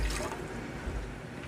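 A short burst of water pouring and splashing, broad and close, fills the whole moment without pause or voices.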